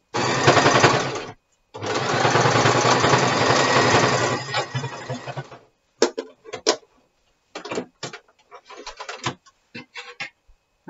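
A sewing machine stitching fabric for a face mask whirs loudly and steadily in two long runs, then stops and starts in short, quick bursts of a few stitches each against silence.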